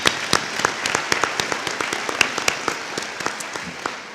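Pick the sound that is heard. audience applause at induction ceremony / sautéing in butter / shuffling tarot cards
audience applause at induction ceremony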